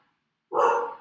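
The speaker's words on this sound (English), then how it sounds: "Sorry for my dog barking if you can hear that." A single dog bark, a short, fairly loud and close sound that rises sharply from silence and fades within about half a second.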